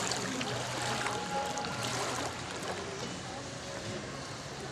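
Rushing floodwater churns steadily throughout, a loud continuous wash of strong waves and flow, with a voice talking faintly beneath it.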